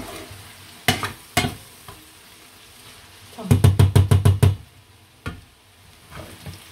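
Flour and tomato cook in a pan under a faint sizzle while a spoon clacks against the rim: two sharp knocks early, then a rapid burst of about seven taps, then a few scattered ones.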